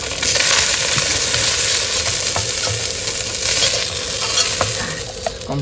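Small tangra fish frying in hot oil outdoors by a river, a dense, close sizzle with stirring clinks and spatters throughout.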